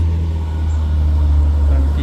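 A tanker truck on a hill climb, its engine a loud low steady drone close by with a strong low hum, as a person talks over it.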